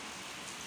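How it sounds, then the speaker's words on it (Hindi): Heavy torrential rain pours down in a dense, even roar with no gaps, loud and close, and no one speaks. "और साथ में हो रही है मौसलाधार बारिश।"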